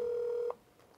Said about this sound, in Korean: 공개된 번호로 직접 통화를 시도해봤습니다